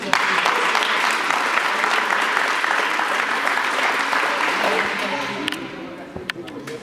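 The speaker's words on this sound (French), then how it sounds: "je pense qu'on peut également les applaudir" Applause from a group gathered at a roller hockey camp, a loud, dense burst of clapping that holds steady for several seconds, then thins to a few scattered claps, with voices mixed in.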